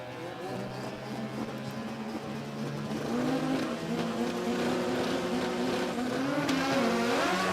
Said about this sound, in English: Tell you what, a bit of a rattle there for the Evo.